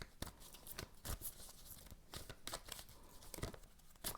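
Tarot cards are shuffled by hand in a series of quick, papery riffling bursts that come in uneven clusters, close and soft.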